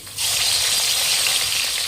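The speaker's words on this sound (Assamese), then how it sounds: "এতিয়া মই এই মাছখিনি খুব ধুনীয়াকৈ ভাজি ল'ম" Fish dropped into hot mustard oil bursts into a loud, steady sizzle after a brief quiet moment, the frying hiss continuing strongly to the end.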